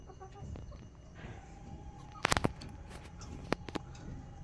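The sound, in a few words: Sonali chicken rooster on a farm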